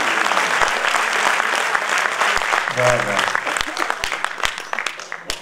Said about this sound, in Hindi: एक हाथ उठा दीजिए और उसे तालियों में डॉक्टर नरेश राज जी के लिए बदल दीजिए